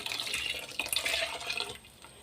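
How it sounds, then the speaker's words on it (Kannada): Water is poured into ground lentils in a pot for urad dal sambar, a close splashing trickle with bubbling and drips, steady for about two seconds before tapering off. "ಇವಾಗ ನಾನು ನೀರು ಹಾಕೋತಾ ಇದ್ದೀನಿ ಇದಕ್ಕೆ"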